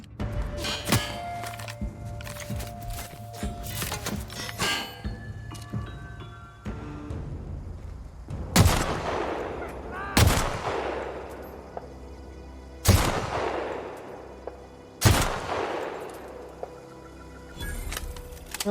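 Hunting rifle shots in The Outer Worlds video game: four loud, sharp reports spaced a few seconds apart, each ringing out with a decaying tail, after a stretch of busier in-game clatter and impacts.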